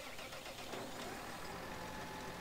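A small, nimble tractor in Landwirtschafts Simulator 13 runs with a steady, close, continuous engine drone that stays at an even level throughout.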